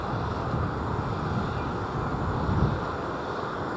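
A Mustang aircraft's engine at Seattle's Boeing Field gives a steady, low rumbling drone that holds at an even level throughout, with a slight swell near the end and no talk.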